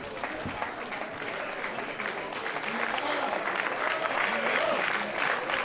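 Wrestling fans applauding at a PWÖ match: broad crowd clapping that swells and grows louder toward the end, with a voice talking over it.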